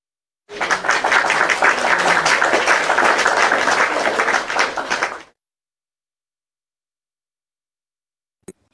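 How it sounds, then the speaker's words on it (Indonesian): A burst of applause from a small group during a church debate, about five seconds of brisk, close clapping that cuts off into silence, followed by a single faint knock. "Tepuk tangan Nor."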